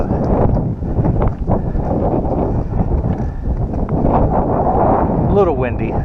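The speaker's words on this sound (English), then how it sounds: "A little windy. Don't let the wind bother y'all." Strong wind buffets the microphone atop Acadia Mountain near Bar Harbor, Maine, on a cloudy day, a loud, steady rumbling roar that fills the whole stretch with brief gusty swells.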